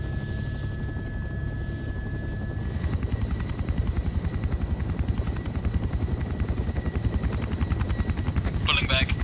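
A helicopter in a Vietnam War video game: the steady, rapid thump of rotor blades builds and holds loud and close after a quieter start, with a brief sharp burst near the end.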